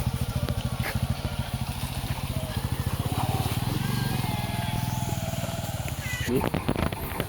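A motorcycle running on a rough village road, its engine putting out a close, steady throbbing put-put. Voices talk over it throughout.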